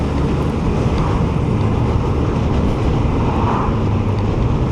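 A Suzuki GSX1400 motorcycle engine pulls hard on the road to overtake, a steady loud roar blended with heavy wind rush over the microphone, continuous throughout with no voices.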